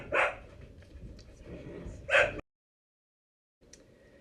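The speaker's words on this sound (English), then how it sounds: "And my dogs do not appreciate him." Pet dogs bark in two sharp, loud bursts close by, with softer yips and restless sounds between them. A short stretch of silence follows, then faint noise comes back.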